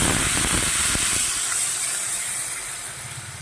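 Water poured into a hot pan of frying taro curry bursts into a loud, close hiss of steam and sizzle that slowly fades over a few seconds.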